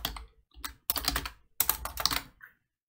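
Keystrokes on a computer keyboard while writing a short Python print line in Spyder, a few close clusters of quick clicks separated by brief pauses, then silence.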